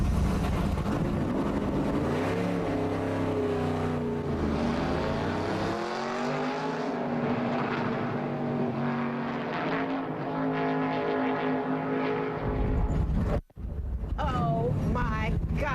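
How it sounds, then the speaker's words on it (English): Race car lapping the Charlotte Motor Speedway, heard from inside with a passenger aboard: a loud, sustained engine roar rising and falling in pitch through gear changes, with heavy wind buffeting and a brief cut near the end. "I was the passenger, and Leffler was behind the wheel on the Charlotte Motor Speedway."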